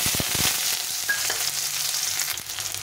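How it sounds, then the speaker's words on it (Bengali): Two large chopped onions drop into hot oil with black cumin in a wok, setting off a loud, close sizzle with crackling bursts at first, then a steady frying hiss with light stirring. "এরপরে আমি এখানে বড় দুটো পেঁয়াজ কুচি করে নিয়েছি, এই পেঁয়াজগুলো দিয়ে দেবো।"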